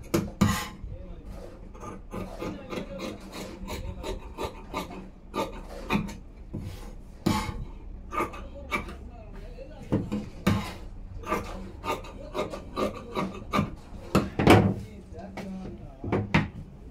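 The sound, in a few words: scissors cutting blouse fabric yoke piece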